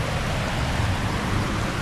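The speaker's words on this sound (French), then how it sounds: "Il pleut." Rain falling steadily outdoors on Hawaii's coast, a constant broadband hiss with no breaks, fairly loud and close, with no talking.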